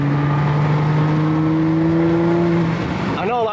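Audi S4 engine with paddle shifters blipping on a quick downshift into third gear, a loud steady engine drone that ends in a sharp rising rev, heard up close.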